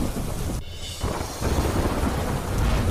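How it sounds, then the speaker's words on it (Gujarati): Heavy, unrelenting rain with thunder in Sawai Madhopur, Rajasthan, a loud dense roar of downpour with a deep rumble swelling through it, no voices. "રાજસ્થાનના સવાઈ માધોપુરમાં અવિરત વરસાદ"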